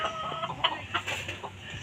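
A chicken clucks in short, uneven bursts nearby, against a low outdoor background.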